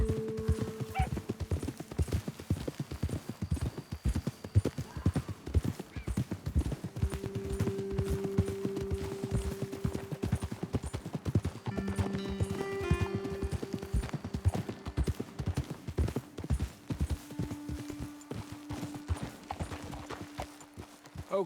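Several horses walk with steady, overlapping hoof clip-clops in Red Dead Redemption 2, close and continuous, with a whinny and faint game ambience mixed in.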